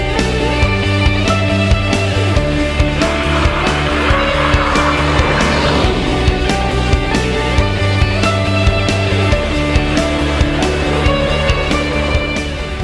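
Two snowmobiles, one with studs and one without, roar loudly across ice as they brake over a line, with engine noise and scraping skid sounds.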